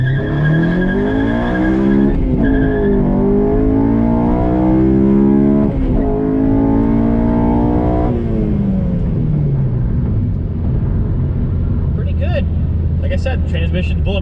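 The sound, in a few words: 2007 Honda Civic Si accelerating hard from launch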